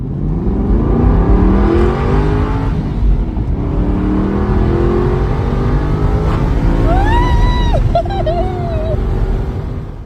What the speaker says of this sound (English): When you rip through the gears, it can be quite exciting